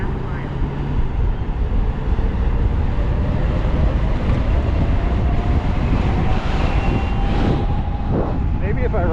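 Steady, loud rushing wind noise buffets continuously while riding a bike on a road alongside traffic, with a voice talking over it near the end.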